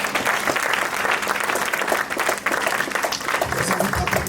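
A church congregation applauds loudly and steadily at a French-language Sunday service, dense clapping filling the room without pause for several seconds.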